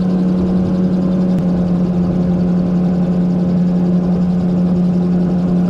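A single-engined gyrocopter's engine drones steadily in flight with a strong low hum, continuous and loud throughout, with no voices.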